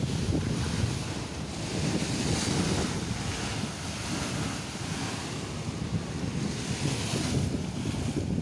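Ocean waves and strong wind out on the open sea, a continuous loud roar of surf and gusting wind buffeting the microphone, with no voices.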